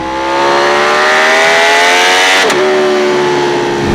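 A Ducati Panigale V4 Speciale motorcycle's V4 engine pulls hard under acceleration, a loud close rising howl that briefly dips at a gear change and climbs again.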